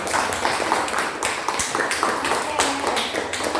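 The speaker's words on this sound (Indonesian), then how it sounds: "Tepuk tangan untuk kelompok melon." Classroom of students applauding a presenting group, a continuous dense patter of many hands clapping at once, steady and fairly loud throughout.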